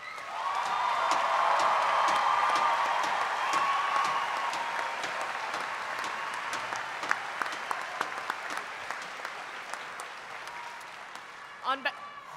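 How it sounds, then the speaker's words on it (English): Sustained applause from a large commencement audience honoring university graduates, loud and dense at first, then gradually thinning into scattered claps before fading out. "let's give our graduates one final round of applause."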